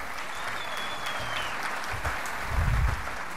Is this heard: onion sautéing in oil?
no